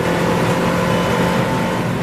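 A Ford Sierra Cosworth race car at full throttle on the Silverstone GP circuit, the engine a loud, close, continuous rasping drone with steady harmonic tones and no pauses.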